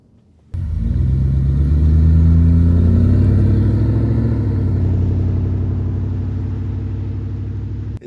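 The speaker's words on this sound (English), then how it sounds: "That subtle burble of the V8, we can hear it." A W124 Mercedes V8 engine with a modified exhaust starts up and settles into a deep, throaty exhaust burble, close and loud, idling steadily with no talk.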